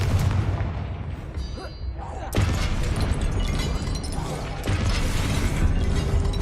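A blasting spell goes off in Hogwarts Legacy, giving two sharp, loud booming bursts with a rumbling, crackling tail and mechanical clatter. The bursts land in quick succession over steady game noise.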